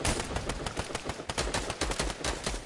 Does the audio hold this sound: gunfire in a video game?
yes